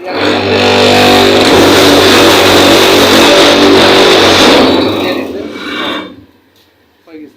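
A solid block brick making machine runs loud and close, its motor droning with a grinding, rasping rattle for several seconds before it winds down and cuts off, leaving near silence and a brief knock.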